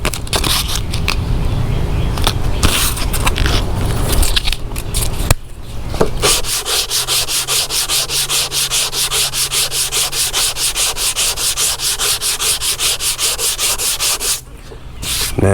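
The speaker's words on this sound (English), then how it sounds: "So I'm gonna start off with 80 grit." Fiberglass bumper lip for a 1979 Chevy Malibu hand sanded with coarse 80 grit sandpaper, a steady loud rasping scrub that runs in quick rhythmic back-and-forth strokes with a short pause midway.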